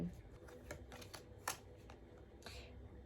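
Tarot cards are drawn and handled in a quiet indoor setting, giving soft, close rustles, slaps and flicks at an uneven pace.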